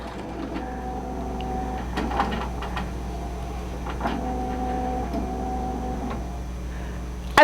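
A Tajima cap embroidery machine tracing a design, with a steady mechanical whir, carriage movements and soft clicks from a nearby motor running on without stitching.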